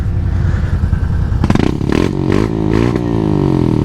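A Honda Rubicon ATV fitted with a Big Gun exhaust idles close by, then revs hard several times in quick bursts, the loud rasping blips rising and falling in rhythm.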